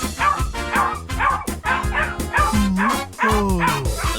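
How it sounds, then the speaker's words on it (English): Rapid, loud barking with yips and a growly edge from a dog in a 3D animated cartoon, repeating in quick bursts close by, almost continuous. "the dog wakes up, growls, and chases him away"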